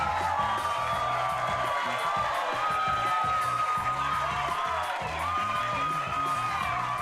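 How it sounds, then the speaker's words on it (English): In the Lawn Mowing Simulator video game, a crowd cheers for freshly mowed grass, a steady dense roar of cheering and whoops that holds for several seconds over sustained tonal game sounds. "Have you ever had anybody cheer for grass?"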